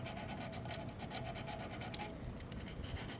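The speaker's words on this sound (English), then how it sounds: "Okay, so I'm sanding up this coil just a little bit." Steady rapid rasping of sandpaper rubbed back and forth on a generator engine's coil, close up, with a quick regular stroke rhythm.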